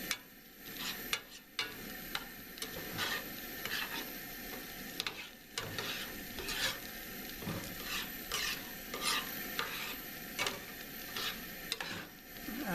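Milk gravy thickening in a pan for Appalachian cathead biscuits, stirred continuously with a rhythmic scraping and clicking of the utensil over a low bubbling sizzle, close and fairly quiet, with no talking.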